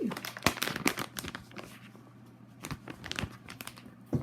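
A printed cross-stitch kit package of the spring design, 70 by 50 cm, being unwrapped close by, with irregular bursts of plastic crinkling and tearing separated by short quiet gaps.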